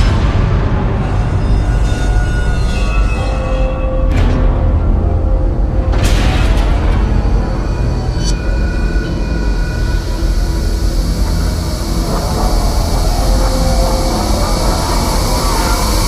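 A train rolls loudly past a US railroad crossing, steady heavy rumble and clatter of wheels with brief high squeals, close and continuous throughout.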